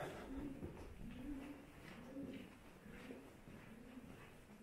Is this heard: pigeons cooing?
yes